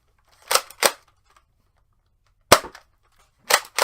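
A Nerf Rival Kronos blaster fires foam balls at a target, five sharp close pops in uneven pairs with gaps of silence between them, each with a short springy rattle.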